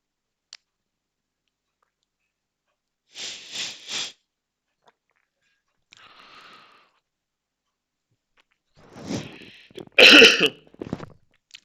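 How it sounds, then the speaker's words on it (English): Someone who is feeling unwell coughs and clears their throat in a quiet room, with a few short bursts early on and a louder, harsher cluster of coughs near the end. "Sorry if I'm coughing too loud."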